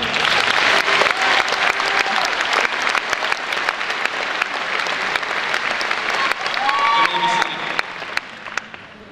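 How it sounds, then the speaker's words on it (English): A large graduation audience claps loudly and continuously, a dense, close wash of applause that tapers off near the end, with faint voices mixed in. "Give yourselves a round of applause."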